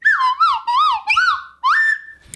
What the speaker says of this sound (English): More sound clips, more nonsense, more slide whistle.